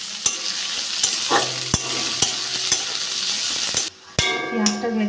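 Garlic and onion sizzle and crackle in hot oil while a spoon stirs and scrapes the pan, with sharp clicks of utensil strikes over steady frying noise, close by.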